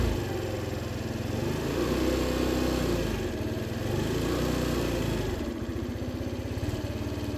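A Baotian Comfort scooter engine with a carburettor problem runs at a high idle, a steady buzzing drone with a faint rhythmic pulse that dips briefly and then continues, close and alone without talk.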